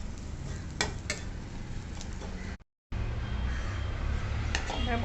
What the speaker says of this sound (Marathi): हे छान परतवून घ्यायचं.